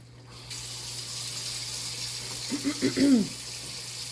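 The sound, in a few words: water poured into a pan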